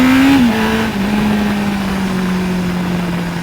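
A car powers out of a corner on a first run after suspension setup, its engine note loud and close, holding a strong steady drone that dips briefly then settles into a sustained pull with no talking.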